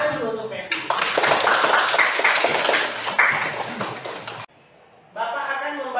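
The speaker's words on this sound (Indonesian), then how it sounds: "Tepuk tangan dulu untuk Pepi." A classroom of students claps for a classmate, a burst of brisk clapping lasting a few seconds under and between the teacher's voice, then stopping as the teacher speaks again.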